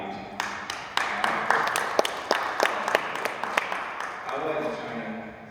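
Audience applause at a public meeting in Dayton with the interim school superintendent, a moderate round of distinct claps rising and fading, with a voice speaking over it.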